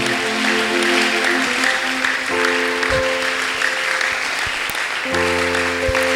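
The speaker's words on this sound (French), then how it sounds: "Est-ce que tu peux acclamer Jésus, acclame le roi?" A church congregation claps and cheers loudly and steadily all the way through, with sustained organ or keyboard notes underneath.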